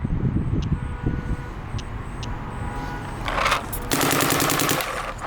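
Planet Eclipse LV2 paintball marker firing a rapid string of shots at a high rate of fire, dense mechanical bursts over a steady low background, loud and close with no talking.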